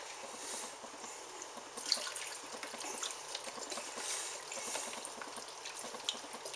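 Stock and broth pour steadily into a soup pot of potatoes and leeks, a continuous close splashing stream with faint glugging, heard alone.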